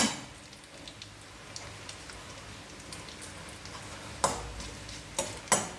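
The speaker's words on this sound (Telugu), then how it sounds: "చక్కగా వేగుతున్నాయి కదా" A tempering sizzles in hot oil for mango pulihora, a soft, steady frying hiss dotted with small crackles. A few sharper pops come toward the end.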